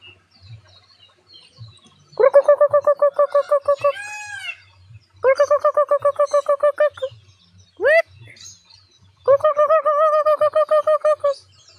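A myna bird in captivity calls in three loud bursts of rapidly repeated nasal notes, separated by short sweeping whistles, over faint low background rumble and distant voices.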